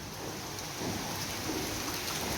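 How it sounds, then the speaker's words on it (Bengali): Heavy rain pours outside on an afternoon, a dense, steady hiss of water on surfaces that swells a little partway through, with no voices. "বিশ্রীভাবে বৃষ্টি হচ্ছে।"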